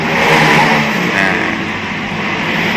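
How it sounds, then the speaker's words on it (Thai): A Mercedes-Benz SLK200 R172 engine started with the push-start button runs loud and close, a steady mid-pitched engine roar with slight revving and no voices. "แล้วเครื่องยนต์ครับ กดปุ่มหนึ่งครั้งนะครับ"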